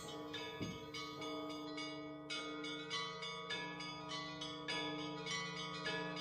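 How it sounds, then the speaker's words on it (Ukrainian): Church bells ring for Easter, with repeated overlapping strikes and long humming tones that sustain and blend into a steady, resonant peal, moderately distant and without voices. "Великодній дзвін доносить радість нашу до небес."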